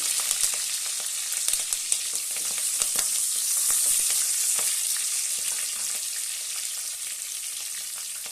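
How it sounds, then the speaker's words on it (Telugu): Whole garam masala, cashews, onion and green chilli fry in about three spoons of hot oil for a chicken biryani. A loud, steady sizzle runs throughout, broken by scattered crackles and pops, close and without talking. "హోల్ గరం మసాలా, జీడిపప్పు, కాజు వేసుకోండి. ఒక ఆనియన్, పచ్చిమిర్చి వేసుకోవాలి."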